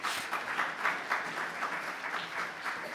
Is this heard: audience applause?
yes